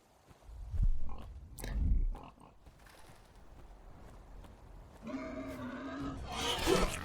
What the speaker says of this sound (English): Oh, a black boar.